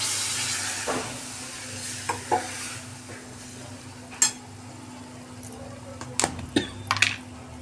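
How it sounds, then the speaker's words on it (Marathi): Eggplant sautés in masala in a pan, a low steady sizzle broken by scraping stirs and sharp clinks of a spoon against the pot, close by. "ती सर्व वांगी मसाल्यामध्ये चांगली परतून घेऊ"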